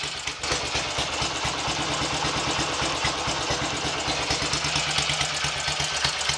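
A BSA Gold Star 350 single-cylinder motorcycle ticks over at idle with a GP carburettor, a steady rapid low thumping pulse heard close up and alone for several seconds.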